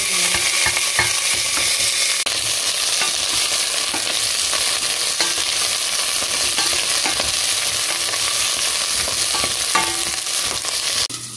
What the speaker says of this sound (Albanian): Tani do të shtojmë bamjet dhe i duhet ka ulliri sa më të mirë.